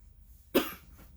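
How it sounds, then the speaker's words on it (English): One single close cough from a person indoors, sudden and brief, standing out against a quiet background. "And cough in your ear."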